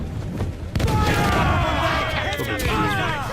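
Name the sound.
ship cannons firing in Assassin's Creed IV Black Flag video game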